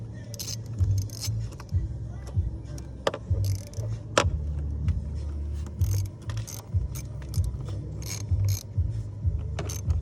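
Ratchet wrench with a 7mm socket snugging a bolt on the air intake housing of a 2015 Ford Fusion: rapid close clicks and mechanical ticking over low engine-bay hum, with scattered sharp taps and metallic rattles.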